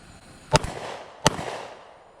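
Two sharp gunshots from an EAA Witness Compact 10mm pistol fired at steel targets, spaced under a second apart, each a loud crack with a brief decaying echo, no talking.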